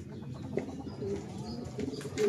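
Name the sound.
pigeon flying and cooing nearby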